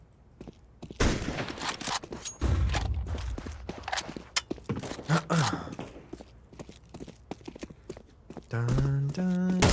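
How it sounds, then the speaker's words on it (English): Rapid bursts of gunfire in a shooter video game, sharp repeated shots in quick clusters mixed with footstep-like clatter and other game effects, loud and close throughout. "How many shots was that?"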